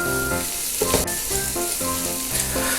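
Garlic, ginger and green chilies sizzle loudly in hot oil while being stirred for a Kerala-style turkey roast, a constant close frying hiss with light stirring scrapes.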